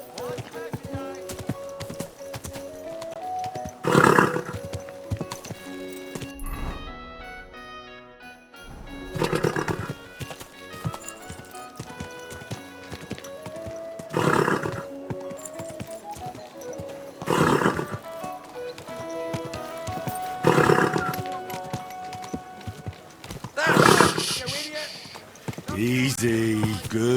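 Horse in the medieval video game Kingdom Come II neighing and whinnying in repeated loud bursts between rhythmic hoof clip-clops, with game music and a brief spoken line mixed in.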